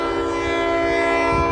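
Train passing near a level crossing in Winchester on a line with a grain elevator spur, a loud steady rumble with sustained tonal ringing throughout, no voices.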